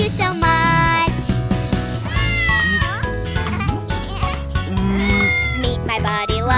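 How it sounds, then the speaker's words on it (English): Cartoon cat meows in a children's nursery rhyme song, heard over continuous bright music with singing; the meows are blended into the full, steady musical mix rather than standing alone. "Meet my buddy, lovely buddy, my kitty Boo"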